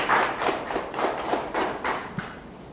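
A church congregation at a Wednesday worship service claps in unison, a steady rhythm of broad, fairly loud claps about twice per second that carries on without talk.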